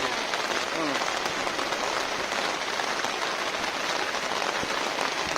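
Steady, heavy rain pours down on a boat, a dense even patter that continues without a break.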